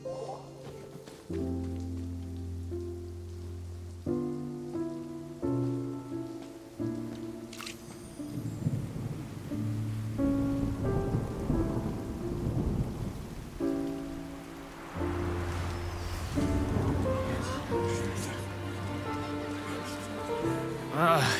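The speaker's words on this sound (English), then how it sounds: "It's raining!" Steady rain patters under game music in Genshin Impact, with bursts of thunder and occasional speech.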